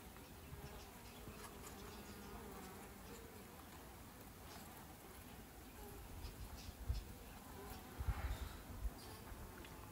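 Honeybees inside a mini nuc hive box make a steady, dense buzzing drone, with soft rustles and taps from the box near the end and no speech.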